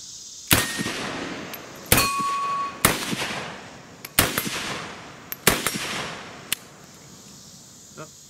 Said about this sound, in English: Oh, there's a misfire.